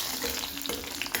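Dabeli masala spices sautéing in oil in a pan for Kutchi kadak, a dense close sizzle with stirring clatter, loud and steady with no talking.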